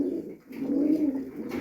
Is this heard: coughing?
no